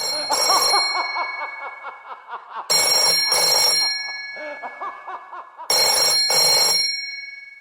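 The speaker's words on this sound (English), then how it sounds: "Millicuddy, can you get the phone? It just keeps ringing." An old-style telephone bell rings in three loud metallic bursts spaced a few seconds apart, each ring bright and clanging with ringing decay between.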